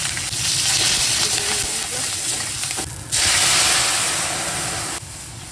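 Radhuni, nigella seeds and green chilli sizzle loudly in hot oil, a steady dense hiss that holds throughout with one brief dip near the middle.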